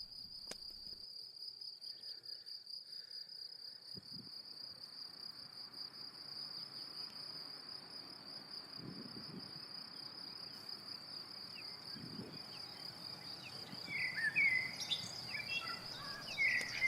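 Crickets and grasshoppers chirp steadily in an open pasture, a dense, constant high trill running throughout with a few faint bird calls and louder insect chirps near the end.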